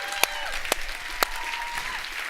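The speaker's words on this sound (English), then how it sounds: "Please give these people a great round of applause." A seated audience at a leadership event applauds steadily, a moderate crowd of clapping hands with a few sharp, close single claps standing out above the wash.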